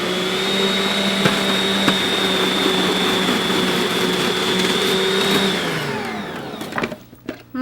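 A food processor runs loud and close, its motor holding a steady whine while potatoes and onion are pushed through the chopping blade, then the pitch slides down as it winds to a stop, followed by a few clunks.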